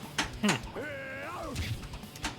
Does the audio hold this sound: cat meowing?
yes